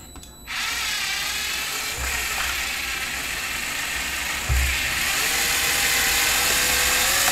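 Power tool driving a 2mm hex screw on a Traxxas E-Revo 2.0 RC truck, a loud steady high whine that starts abruptly and runs continuously, with a couple of low knocks along the way and no talk.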